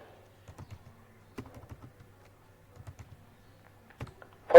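Someone types PHP database connection code on a computer keyboard, producing sparse, quiet clusters of key clicks in short irregular bursts, ending with a sharper, louder click.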